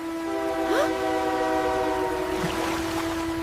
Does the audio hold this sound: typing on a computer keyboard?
no